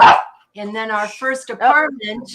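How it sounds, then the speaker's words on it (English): A dog barks loudly in a few sharp bursts at the start, then a person talks over the room. "that's our dog. Sorry about that."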